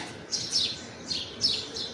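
Small birds chirp near a nest with chicks, three bright, high tweeting bursts spaced about half a second apart, close by and clear over a soft, steady background hiss.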